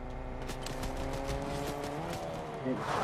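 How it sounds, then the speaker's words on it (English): A car drives in the video game Fortnite, its engine humming with changing pitch amid game sounds and scattered pops, while players talk over it. "There's a car? I can hear it."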